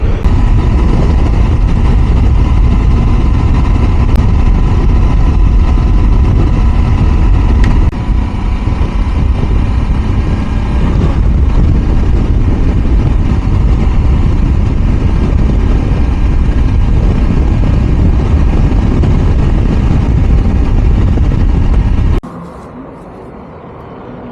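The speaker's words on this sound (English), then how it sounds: "these trucks on the route remind me of Indian trucks with a heavy carbon filled exhaust" Steady, loud road noise of heavy trucks with smoky diesel exhausts driving past on a Russian highway, a continuous low engine drone and tyre roar that drops off abruptly near the end.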